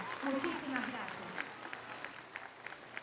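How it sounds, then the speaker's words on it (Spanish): Audience applause at a school nutrition fair event, a soft, scattered patter of clapping at moderate distance, quiet and thinning out over a few seconds, with a voice speaking over the start. "Un fuerte aplauso para Miriam."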